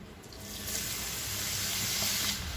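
Steady, hissing sizzle of chopped garlic frying in hot oil, close and continuous, rising slightly in intensity before easing off near the end.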